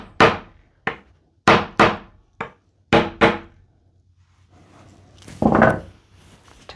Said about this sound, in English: Got my hands on the hammer.